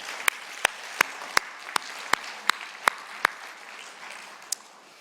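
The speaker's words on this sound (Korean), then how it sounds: "박수 한번 하겠습니다." About nine sharp, evenly spaced claps from a children's worship group at a Sunday church service, bright and close with a steady beat, then one last stray clap after a pause.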